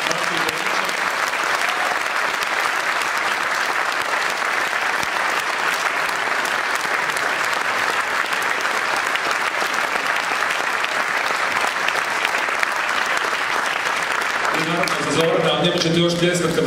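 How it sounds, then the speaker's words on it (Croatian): Long, loud, sustained audience applause at a book promotion event, dense clapping from a packed hall continuing steadily before trailing off near the end. "zamolit ću vas još jedan veliki pljesak za Zorana Čuturu"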